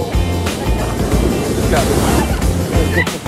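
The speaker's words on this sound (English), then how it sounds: "we can hear the waves" Ocean waves roll onto a Hawaii beach in the early morning, a steady broadband wash with surges near the start and end, heard close with brief talk over it.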